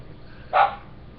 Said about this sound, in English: never mind that dog barking in the background